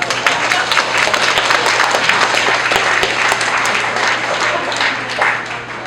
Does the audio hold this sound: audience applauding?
yes